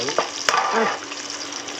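Food fries in fresh oil in a large wok, a steady bright sizzle with a few sharp scraping stirs of the utensil against the pan.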